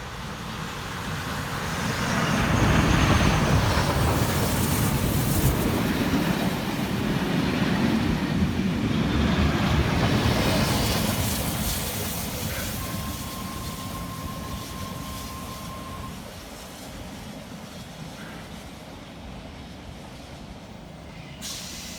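Steam locomotive 3526 pulls away running tender first, giving a broad rumbling roar that builds, holds and then slowly fades as it moves off. A brief tonal whine sounds partway through.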